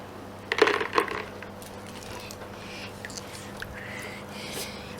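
A few small rocks clatter into a folded paper boat sitting in water, two quick knocks close by, followed by a low steady background hum with faint scattered ticks.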